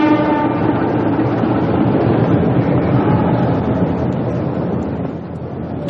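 A night sleeper train in a horror radio drama, its carriages rolling on with a steady, loud rumble and faint rhythmic clatter that slightly fades near the end.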